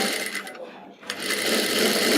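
An electric sewing machine stitches a pocket on palazzo pants in fast, buzzing runs, close and loud, with a brief pause midway before the stitching resumes.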